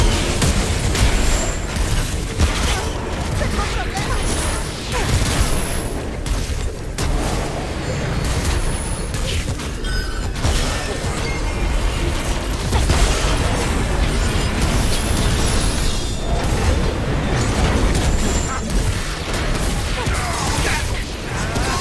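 Gunfire and explosions from the video game Remnant: From the Ashes, a dense, continuous barrage of loud shots and booms with no pauses throughout, close and busy.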